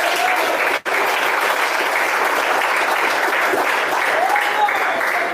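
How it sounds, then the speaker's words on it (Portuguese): A church congregation clapping hands during a sermon, a thick continuous roar of clapping that holds steady, with a brief drop near the start and faint voices woven in. "Bate palmas."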